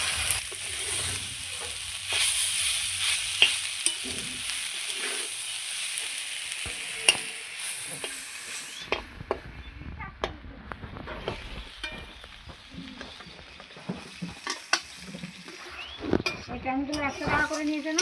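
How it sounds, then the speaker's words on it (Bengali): Jute leaves fry in a pan with salt and turmeric, making a steady sizzle with frequent scraping stirs. A voice talks over the cooking for much of the clip, and the sizzle quiets partway through. "লবণ আর হলুদ দিয়ে খুব সুন্দর করে শাকটা আমি ভেজে নেব"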